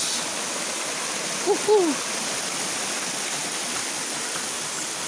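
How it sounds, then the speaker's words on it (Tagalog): A waterfall and stream pour steadily over rocks on a mountain trail in Panindingan, a continuous broadband rush with a brief faint call or voice near the middle. "Ayan. Yung waterfalls."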